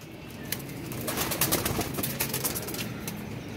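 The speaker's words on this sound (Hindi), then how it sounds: "ये कबूतर है और जी इसकी फीमेल है" A pair of pigeons, male and female, coo softly in a low rolling murmur, with scattered sharp clicks and rustles over the steady calls and no voices.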